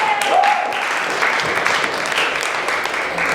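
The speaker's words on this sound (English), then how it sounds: "Give yourselves a round of applause." A live audience in Venice, California claps steadily after a spoken word performance, a dense continuous wash of applause with a brief whistle at the start.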